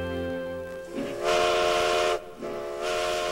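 A steam locomotive whistle blows in two long, loud, hissing blasts separated by a brief gap, with a softer whistle tone fading before them, and no voices.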